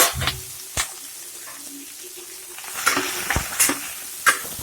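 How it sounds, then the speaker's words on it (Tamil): Chopped onions drop into hot oil for vadakari, sizzling steadily with stirring scrapes and a few sharp clinks of a utensil against the pan, close and fairly loud, with no talking. "நல்லா ஆயில் சூடாக இருக்கவும் நல்லா போட போடன்னு பொரியுது"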